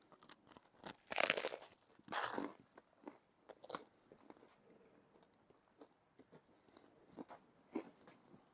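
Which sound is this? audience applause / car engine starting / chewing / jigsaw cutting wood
chewing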